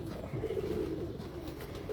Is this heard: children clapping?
no